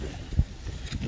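Gusty wind buffets the microphone outdoors beside a whitebait net, a steady low rumble with one stronger gust near the middle, with no voices.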